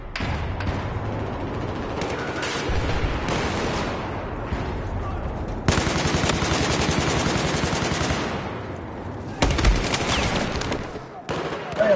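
Machine gun fire rattles in a multiplayer shooter video game, with dense bursts of rapid shots and thuds coming in waves, loud and continuous, with players talking faintly underneath.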